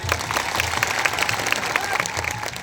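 A crowd at an Indian political gathering claps for Anandbhai Patel, dense, steady applause of many hands, with voices mixed in, continuing throughout.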